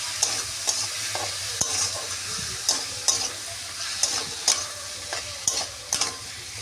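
Spices with coriander powder and salt sautéing in a pan for a fish roe curry, a low steady sizzle broken by a spatula's sharp repeated taps and scrapes against the pan, close, no talking.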